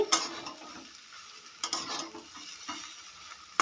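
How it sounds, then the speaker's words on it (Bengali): A spoon stirs fried okra with potatoes and spices in a pan, sizzling steadily with a few sharp scraping strokes against the pan spaced through the stretch. "ভেন্ডিগুলোকে একটু নাড়াচাড়া করে নেব আলুর সঙ্গে"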